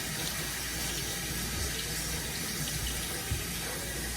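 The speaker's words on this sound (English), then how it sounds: "I rinse my hands off." Faucet water runs steadily over hands being rinsed at a sink, a constant close splashing hiss for the whole stretch with no talking.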